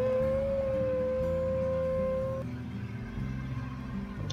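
Another wolf howl from the WolfQuest video game, a single long steady cry lasting a couple of seconds over a constant game soundtrack, which carries on alone after the howl fades.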